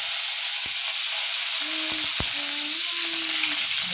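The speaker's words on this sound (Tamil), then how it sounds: "இப்போ கடுகு பொரிஞ்சதுக்கப்புறமா கருவேப்பிலை" Curry leaves hitting hot oil after mustard seeds have spluttered, a loud, dense hiss of frying oil with a few sharp pops and a short scrape, close up.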